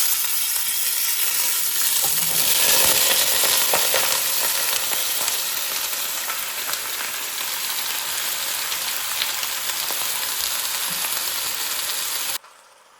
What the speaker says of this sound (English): To our pot that's already hot, we'll be adding some oil. Then we'll get our meat in there to sear.